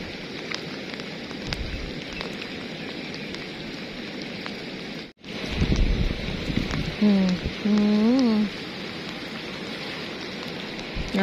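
Steady rain falling outdoors in rural Isan, northeastern Thailand, a constant broad hiss with a brief dip partway through and a short vocal sound near the end.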